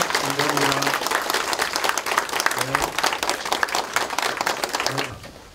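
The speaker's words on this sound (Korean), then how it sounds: "힘찬 박수로 맞이해 주시기 바랍니다" An audience at a Democratic Party meeting breaks into loud, dense applause to welcome the party leader, the clapping filling the room for over five seconds while voices talk and call out beneath it.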